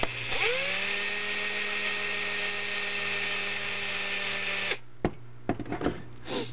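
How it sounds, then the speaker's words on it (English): A power drill driving screws whines at a steady pitch for several seconds, then cuts off, followed by a few clicks and rattles. "You just put them in most of the way with your drill."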